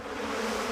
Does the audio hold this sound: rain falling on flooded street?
no